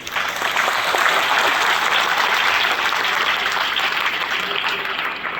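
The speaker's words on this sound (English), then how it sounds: "Let's give them a huge round of applause." Sustained audience applause at a school special assembly, dense steady clapping holding at full strength for about five seconds with no talk over it.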